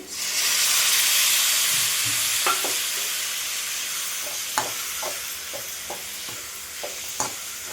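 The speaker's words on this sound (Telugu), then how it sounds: "చింతపండు నానబెట్టుకుని ముందే గుజ్జు తీసి పెట్టుకున్న చింతపండు రసాన్ని వేసుకోవాలండి" Tamarind juice goes into a raw banana curry cooking in a hot pan, setting off a loud hissing sizzle that slowly fades while a spoon scrapes and taps at intervals.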